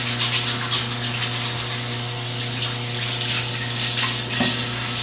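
Running water from a tap pours steadily over a juicer's strainer screen being rinsed, a continuous close hiss and splash under a constant low hum, with no talking.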